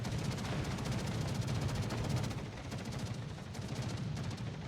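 Defensive anti-aircraft guns blare away during a World of Warships naval battle, a dense, continuous roar of rapid gunfire that rattles on steadily and loudly without pause.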